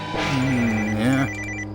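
A mobile phone ringtone plays loudly and close, a single melodic ring phrase that cuts off abruptly.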